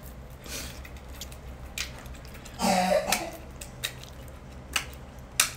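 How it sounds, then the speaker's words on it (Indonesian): Someone coughs off to the side during a casual indoor livestream chat, a cluster of rough coughs in the middle with scattered small clicks and mouth sounds around it, fairly faint. "Itu yang batuk-batuk siapa?"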